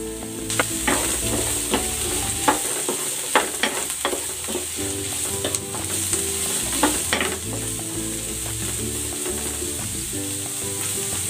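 Baguio beans tossed into a hot pan of frying onions for a Filipino chicken dish, sizzling steadily and loudly while a spatula scrapes and clatters in repeated stirring strokes throughout, with no talking.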